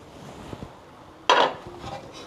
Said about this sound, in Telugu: ఎగ్స్ వేసి మంచిగా కలుపుకుందాం.